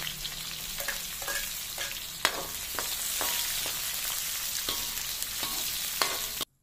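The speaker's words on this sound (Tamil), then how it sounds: "சரி இப்போ வெங்காயம் வந்து இப்போ தான் போட்டிருக்கிறோம் பொரிஞ்சு கொண்டே இருக்குது" Onions and green chilies with mustard seeds frying in hot oil in a pan for fish curry, a steady close sizzle with repeated light stirring scrapes and clicks, no talking.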